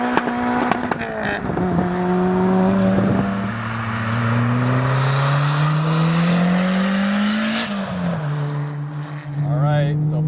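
A turbocharged B18C-powered Honda Civic EK hatchback accelerates hard through the gears under boost, its engine note rising steadily, dipping at a shift, then climbing again with turbo whine, loud and close throughout with a voice talking over it.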